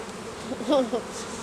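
Honeybees buzz around an open beehive frame during a youth beekeeping inspection, a soft steady hum with a brief closer buzz passing by, low under quiet outdoor ambience.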